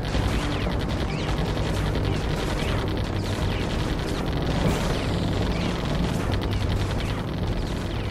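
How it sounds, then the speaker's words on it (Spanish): Machine gun towers firing in the tower defense game Defense Grid: a dense, continuous wall of rapid gunfire and booming impacts that stays loud and steady throughout, with no talking. "La línea de ametralladoras."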